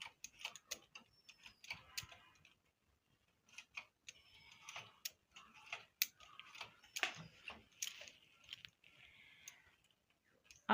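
Sweater knitting machine working a rose pattern, with rapid irregular mechanical clicks and clacks of the carriage and needles, quiet and close, with no talk.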